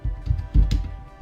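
Keys on a computer keyboard are tapped to enter a command in Windows 10, a quick run of close, crisp clicks lasting about a second with no talking.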